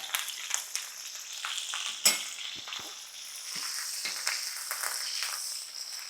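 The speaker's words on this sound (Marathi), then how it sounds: "तेल तापलंय तेलात टाकूया मिरची" Sliced green chillies sizzle and crackle in hot oil in a home kitchen, a steady frying hiss broken by a few sharp pops and spatters, close and without speech.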